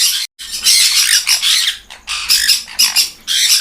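Conure parrots in an aviary give loud, harsh squawks in rapid bursts, several overlapping calls close by with brief gaps between them.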